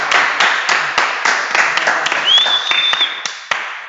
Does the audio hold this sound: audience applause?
yes